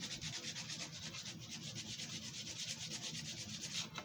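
Sandpaper rubbing back and forth over a carved mahogany wood dragon, a close, steady scratchy rasp with quick regular strokes and no voices.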